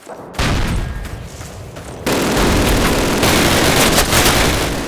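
Twin MG42 machine guns firing in a Call of Duty battle at Brecourt Manor, a loud, dense roar of rapid fire that swells and intensifies partway through, with booms mixed in.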